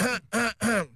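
A man clears his throat and coughs in three quick, harsh bursts, close and loud.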